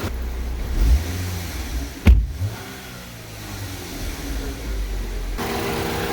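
A car engine on a workshop bench test is blipped wide open to about 5000 rpm, a sharp loud rev surge that quickly falls back to a steady idle, with faint talk nearby.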